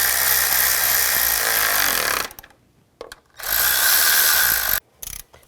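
A ratchet tightens the valve cover bolts on a 2003-08 Nissan Maxima, giving two long, loud stretches of rapid clicking separated by short clicks and brief silences.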